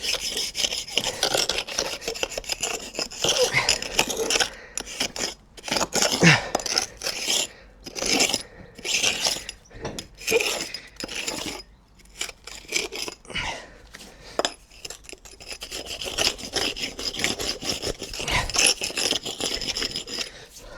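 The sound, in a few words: brick hammer raking out patio paving pointing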